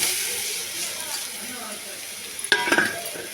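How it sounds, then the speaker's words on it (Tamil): Ridge gourd sizzling as it's sautéed in a pan, a steady hiss close by, then a few sharp clinks of a utensil against the pan near the end. "பீர்க்கங்காய் எடுத்து இந்த சட்டியிலே போட்டு வதக்கும்"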